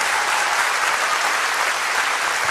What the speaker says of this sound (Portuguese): Se você pode aplaudir por isso,